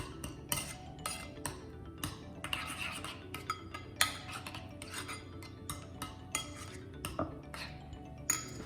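A utensil stirs aioli seasoned with kosher salt and black pepper in a bowl, giving a quiet, steady run of scraping and clinking taps against the bowl with no talking.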